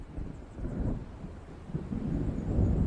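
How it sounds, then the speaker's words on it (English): A thunderstorm rumbles in the video game Alan Wake, with deep rolling thunder over a steady bed of rain and wind, building louder toward the end. "It seems there's a storm coming."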